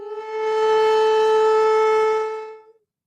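A civil defense style siren sound effect rings out loud and steady for about three seconds, holding a single sustained wailing tone alone before cutting off abruptly.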